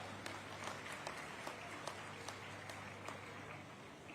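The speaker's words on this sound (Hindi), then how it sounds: "ऐसे यहाँ के लाडले नेता ओपी चौधरी जी के लिए जोरदार तालियां।" A crowd at the opening of the Chakradhar festival in Raigarh applauds the politician OP Choudhary, with steady, faint, distant clapping and a few crisp individual claps standing out.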